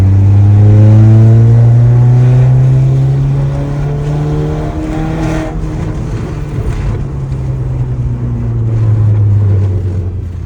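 A broken Audi A3 8P, suspected of having its timing chain one link out, pulls at full throttle in third gear. The loud, droning engine note climbs, dips briefly midway, then rises again.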